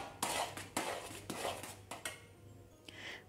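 Stirring thick, creamy coconut upma sweetened with palm sugar in a pan, giving a series of close scraping and clinking strokes of a utensil against the metal, spaced irregularly with short pauses between.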